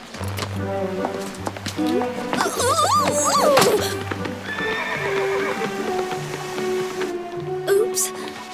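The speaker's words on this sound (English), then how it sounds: "The horses need tending." Horses whinny in rising and falling neighs amid steady clip-clopping hooves, with people talking over the animals nearby.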